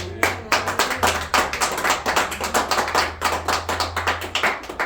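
A church congregation claps in steady rhythmic unison during a worship service, sharp repeated hand claps in a quick beat over a low sustained hum, close and loud throughout.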